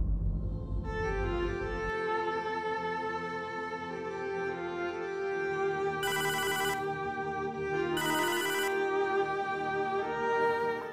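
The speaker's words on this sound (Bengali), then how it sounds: "আব্বাই ফোন করছে।" A phone ringtone plays for an incoming call, a steady melodic tune with brief buzzy bursts partway through, no talking over it.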